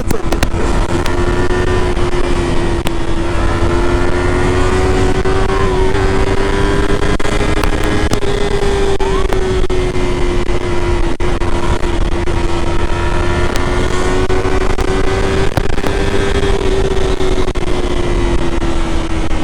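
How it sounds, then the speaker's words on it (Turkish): A Yamaha MT-25 motorcycle ridden on the road, a loud, continuous engine drone with a steady hum that rises and falls gently with the throttle, heavy wind rush throughout and no speech. "şimdi çıkmışım Motor sürüyorum"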